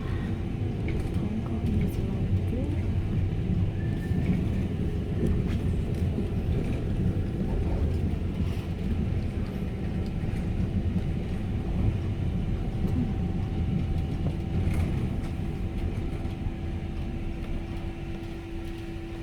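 A tram rolls through Christchurch on a city tour, a steady low rumble and hum from the moving car throughout, with faint clicks and muffled voices inside the carriage.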